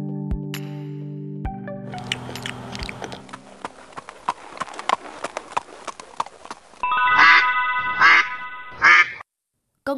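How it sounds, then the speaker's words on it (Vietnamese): Several loud duck quacks ring out near the end of an animated folk tale, following a stretch of clip-clopping hooves and a low musical tone at the start. "Con vịt kia rồi"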